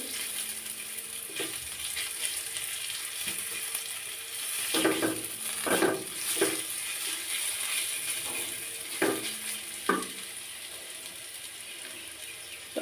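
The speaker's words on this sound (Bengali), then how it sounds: "পেঁয়াজ কচিটাও কিন্তু আমি বেশি সময় নিয়ে ভাজি করবো না হালকা একটু ভাজি করে নিব" Chopped onions fry lightly in a pan for hotel-style noodles, with a steady sizzle and several sharp scrapes and knocks of a stirring utensil near the pan.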